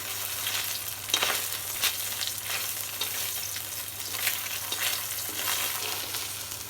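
Fish sizzling lightly in a pan of hot oil, a continuous close crackle broken by several louder bursts of spatter and stirring, with a low steady hum below.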